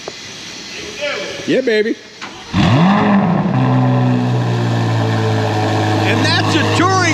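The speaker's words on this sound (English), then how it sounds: "Gotta get you a cold start inside the shop of the Z06." Chevrolet Corvette Z06 cold-starting inside a shop: the engine fires with a loud rising bark, then settles into a steady, deep idle. Someone speaks briefly just before ignition.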